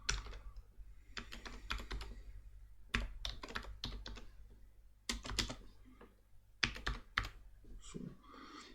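Typing code on a computer keyboard during a JavaScript lesson: quick clusters of key clicks in bursts with short pauses, close and clear, with no talking.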